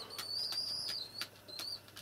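Pigeons beat their wings in quick soft bursts while feeding chicks, with a thin high whistling tone running over the flaps at low volume.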